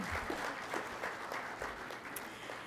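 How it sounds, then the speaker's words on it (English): Audience applause at a Martin Luther King Jr. birthday breakfast, a roomful of people clapping steadily at a moderate distance, quiet overall and sustained without voices. "You can clap for that."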